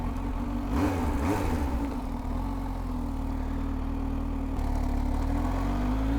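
A supercharged Kawasaki Z H2 motorcycle engine drones steadily while riding, fresh after a clutch fluid change, holding a constant mid-pitched hum with brief revving swells early on and no voices.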